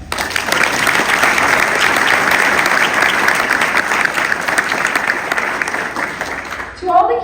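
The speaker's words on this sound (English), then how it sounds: "please give all of them a round of applause." Sustained audience applause at a military retirement ceremony for a colonel, steady and dense clapping filling the room for about seven seconds before tapering off at the end.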